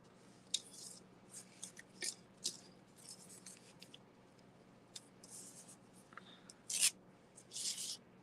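Leather craft material being cut, with soft rasping slices and a few sharper snips coming in irregular bursts, close and quiet over a low background hum, with no talking.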